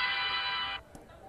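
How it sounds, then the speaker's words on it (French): An electronic telephone ringtone trills steadily for most of a second before cutting off abruptly, leaving a brief faint click. "Ton téléphone sonne, Gordon."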